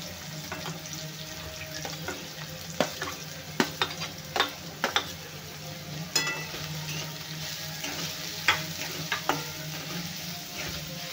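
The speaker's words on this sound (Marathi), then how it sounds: "कांदा पण आपल्याला लाल होईपर्यंत भाजून घ्यायचा आहे।" Onions frying in a pan for a dried bombil chutney, with steady sizzling and scattered sharp clicks of a spoon stirring against the pan, fairly close and moderately quiet, no talking.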